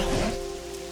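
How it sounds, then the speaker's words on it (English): Heavy rain pours down steadily in the video game Pokopia, a dense continuous wash of drops with a faint steady tone running beneath it. "It's pouring."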